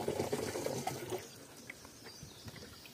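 Water runs from a tap in a provincial home, a soft steady flow that is strongest in the first second and then settles into a faint trickle, with no voices.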